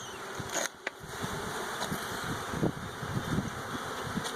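Many honey bees buzz around a crowded hive in a dense, continuous drone close by, with a few louder passes and light knocks.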